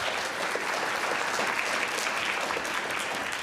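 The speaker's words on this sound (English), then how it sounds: "we can still give her a round of applause" An audience at a young writers' event claps in a soft, continuous patter, a steady crowd applause heard from some distance without any talk over it.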